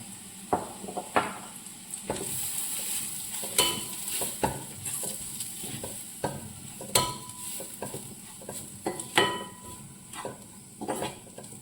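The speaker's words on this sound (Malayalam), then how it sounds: "മുളക് പൊടി മല്ലിപ്പൊടി ഇത്രയും കൂടെ ഒന്നിട്ട് ഒന്ന് ചൂടാവട്ടെ" Chilli powder and coriander powder heating in a pan while a spoon stirs and scrapes, giving a faint steady sizzle broken by repeated sharp clinks of utensil against metal, close by with no talking.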